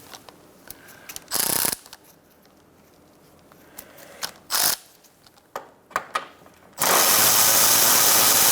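Ratchet with a 10mm socket removing splash shield bolts on a 2014-2019 Kia Soul 1.6L, several short bursts of rapid clicking, the last one long and sustained, close and loud with quiet gaps between.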